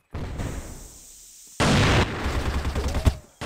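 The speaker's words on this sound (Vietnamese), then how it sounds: "Thằng nào bắn súng nhắm vậy?" Gunfire from a sniper rifle in the online shooter CrossFire during a clan match: a loud, sharp burst of shots with a long decaying tail, followed by further blasts and clatter. No one speaks.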